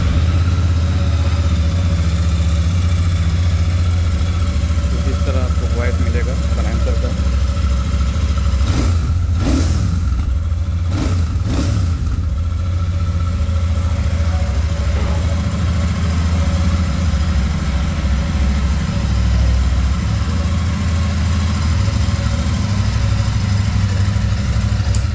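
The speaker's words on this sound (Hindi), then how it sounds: "मैं आपको शुरुआत करता हूँ इसका इंजन वॉइस मैं दिखाता हूँ इसका इंजन वॉइस किस तरह आपको लगेगा" A Royal Enfield Super Meteor 650 motorcycle idles steadily with a low, even engine thrum, loud and close, and a couple of brief throttle blips midway.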